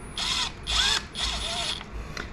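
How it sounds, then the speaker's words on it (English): An impact driver tightening T25 screws while installing Warn locking hubs on a Ford F250 fires in three short bursts of rapid hammering, with brief pauses between each, close by. "Let me get my drill, my little impact."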